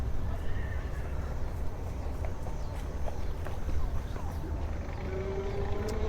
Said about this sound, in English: Oh, we've got a horse.